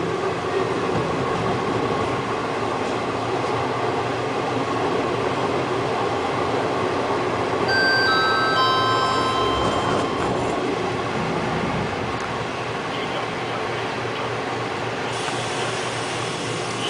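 Steady interior rumble of a moving PKP Intercity passenger train, with continuous wheel and track noise and faint wheel squeals partway through, no talking.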